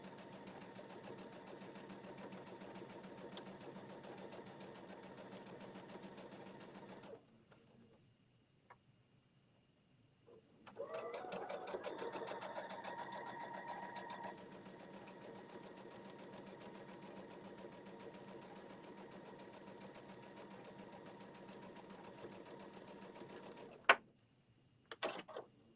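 A sewing machine stitches in a rapid, continuous whir, pausing briefly near the middle before running again for a long stretch, with a short burst at the end.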